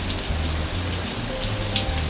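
Rain falls in Sedona, Arizona, during a lightning storm, a loud, constant close-up patter of drops hitting the ground and nearby surfaces, with no talking.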